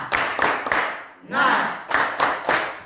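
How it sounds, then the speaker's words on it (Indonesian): Students in a classroom perform a rhythmic spirit clap, groups of sharp claps in a steady beat around a chanted cheer, loud and close, with voices chanting between the claps. "yaitu tepuk semangat. 2, 3, ya. Tepuk semangat, semangat"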